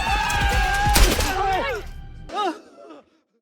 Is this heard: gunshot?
yes